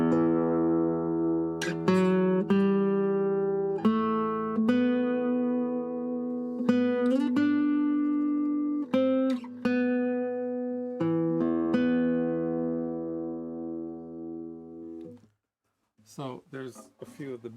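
Classical guitar playing bass melody notes on the fifth string from Villalobos Prelude No. 1, a slow sequence of plucked, ringing notes, close and clear, followed by a short pause and a few quick strums at the end.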